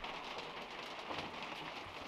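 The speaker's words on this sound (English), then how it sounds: "Look how rainy it is." Heavy rain pours down in a constant, dense hiss of drops hitting surfaces, steady and moderately close for the whole stretch, with no voices.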